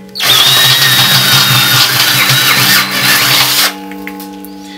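A power tool cuts into a stainless steel brew pot with a loud, close, continuous whine and a high squeal of metal for about three and a half seconds before winding down.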